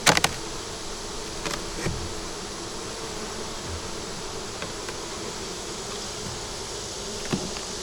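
Honeybees hum around a hive in a constant, close buzzing drone, with a few sharper clicks and taps breaking through now and then.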